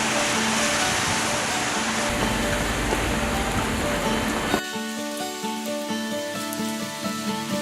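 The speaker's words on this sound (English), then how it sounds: "It is raining outside, it is pouring" Heavy rain pouring outdoors, a dense steady hiss of drops on wet surfaces that holds throughout and changes character partway as the scene shifts, with tonal background sounds underneath.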